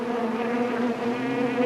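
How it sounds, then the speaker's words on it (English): Loud, dense buzzing of an angry swarm of wild bees, a steady droning hum close by with no pauses. "they too heard the buzzing of wild bees. But this time, it was an angry sound."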